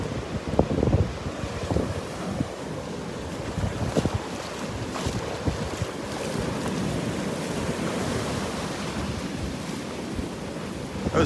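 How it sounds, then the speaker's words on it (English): Big ocean waves breaking on the beach at Delnor-Wiggins, a continuous wash of surf with gusty wind buffeting the microphone, moderately loud and steady throughout. "Those waves are big."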